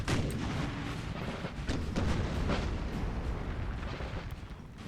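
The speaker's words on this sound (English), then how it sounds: "The artillery is just merciless." Artillery fire booms across a Napoleon Total War siege battle at Valencia in 1812, a dense, continuous barrage of overlapping cannon blasts and crackling musketry at steady loudness, with no talking.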